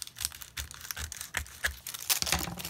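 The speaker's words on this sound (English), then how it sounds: "I'm going to trim down the glassine bag again so that I can read the very" Scissors snip and crinkle through a thin glassine bag at close range, with a quick irregular series of small cuts and papery rustles.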